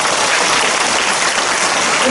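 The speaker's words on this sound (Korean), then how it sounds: "우리 주님께 영광을 박수 드립니다" A church congregation at a worship service bursts into loud, sustained applause, thick continuous clapping from a large crowd that holds steady throughout.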